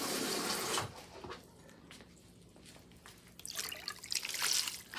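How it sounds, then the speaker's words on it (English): Water is poured into a wool dye mixture, a close splashing rush that stops, leaving a few soft drips and trickles before a second, louder pour picks up. "So what I'm going to do is I'm going to add a little bit more water to my mixture."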